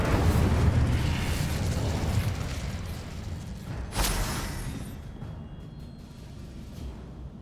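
A burst of fire from the Incendio spell cast in the Hogwarts Legacy video game, a single sharp whooshing flare midway through over a steady rumbling game ambience that slowly fades.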